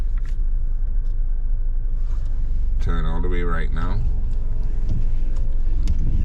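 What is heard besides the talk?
car reversing during a driving test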